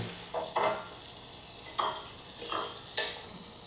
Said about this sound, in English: we're going to go ahead and toss in most of our veggies